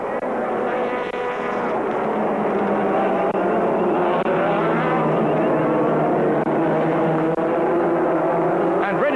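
Touring cars from the 2004 BTCC at Mondello Park accelerate together at a safety car restart, a loud continuous roar of multiple engines heading toward the hairpin, with a commentator talking over it.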